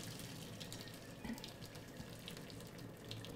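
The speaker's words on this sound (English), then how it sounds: "So we're straining the rice out," Cooked brown rice strained like pasta as water drains steadily through a strainer for a vegan rice bowl, a continuous faint splashing trickle with no talk.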